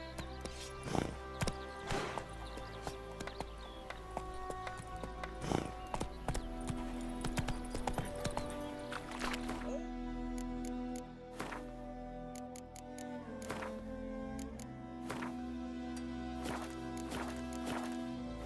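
Horse hooves clip-clopping in The Witcher 3 video game, a steady walking rhythm of hoofbeats under a sustained musical score, with brief voices now and then.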